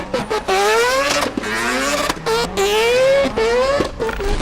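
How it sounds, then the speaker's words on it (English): A street-legal, time-attack-spec Mazda FD RX-7 rotary engine screams through repeated rising revs, several sharp climbs broken by brief gaps. It is loud and close, with no talking. "so that's why Mad Mike calls it the Hiroshima Screamer"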